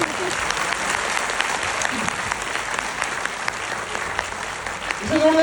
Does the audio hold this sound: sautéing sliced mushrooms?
no